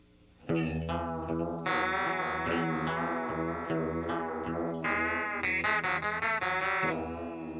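Walrus Audio Slotva multi-effects pedal running a chorus with its lag control turned all the way up, sustained guitar chords swirling and wavering in pitch, loud and close, with no talking over it.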